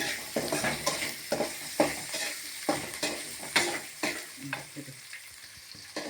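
Onions frying in a pan, a close sizzle broken by repeated rhythmic stirs and spatula scrapes against the pan.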